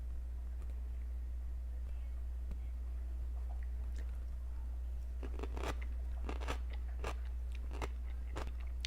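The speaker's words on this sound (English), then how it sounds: "Hopefully you can hear that, because it's crunchy." Several crisp, crunchy bites and chews of a pickled radish in a row, close up, starting after a quiet stretch, over a steady low hum.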